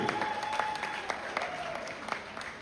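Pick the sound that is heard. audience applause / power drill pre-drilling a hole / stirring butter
audience applause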